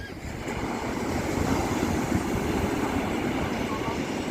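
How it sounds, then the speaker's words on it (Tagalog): Big sea waves rolling onto a beach just after a storm, heard as a steady, loud, broadband roar of surf that swells slightly partway through, with no talking. "Kaso malaki talaga ang alon no."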